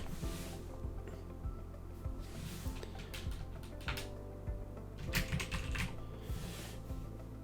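Someone types on a computer keyboard while setting up screenshots in Windows 11, producing irregular, close, quiet clicks and taps in short bursts.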